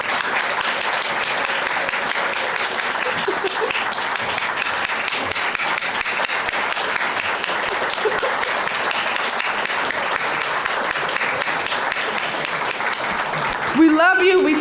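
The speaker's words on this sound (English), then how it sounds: "can we just stop right here and give them a round of applause" A crowd gives sustained applause for the Oak Ridge Bombers, veterans of 1940s–1960s American baseball, at a history center event; steady dense clapping fills the whole stretch, with a brief louder burst near the end.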